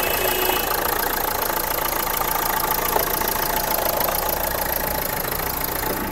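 Used 2015 XV model car with a 110 PS engine running at idle, a steady mid-pitched rattly hum with a faint knocking texture, close and continuous without any talk.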